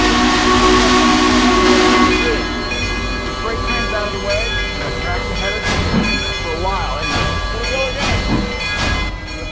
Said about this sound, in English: freight train is coming. They're not going to stop.